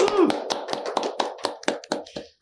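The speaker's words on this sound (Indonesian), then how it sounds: "Tepuk tangan semuanya." A small group clapping at an informal campus talk, about a dozen sharp separate claps in quick uneven rhythm, close and moderately loud, fading out after a couple of seconds.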